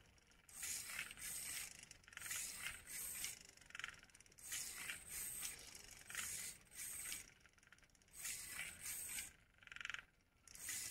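A small Fanbot robot mechanism running, giving bursts of whirring, scraping mechanical noise that start and stop in a repeating cycle, close and fairly quiet.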